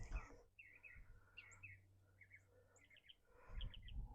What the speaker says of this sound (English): I don't know if you can hear those birds.